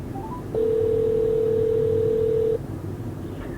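A single sustained phone ringback tone sounds for about two seconds through the speakers of a Toyota Sequoia running Android Auto, clear and steady inside the car after a few quick dialing blips.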